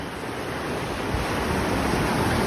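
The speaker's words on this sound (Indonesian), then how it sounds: "Ombaknya kencang kali" Strong ocean waves surging against a sea cliff in South Aceh, a loud, continuous roar of surf with wind noise on the microphone, steady throughout with no voices.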